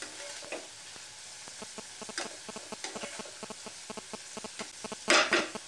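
Bitter gourd frying with salt and turmeric, a steady soft sizzle under rhythmic scraping and clicking of a spatula stirring the pan, a louder clatter near the end, no voice.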